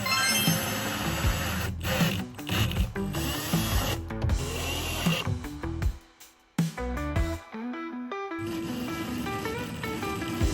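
Power drill driving screws to secure a coffee bar countertop, loud close whirring bursts that start and stop repeatedly, with a short quiet gap midway and no voices.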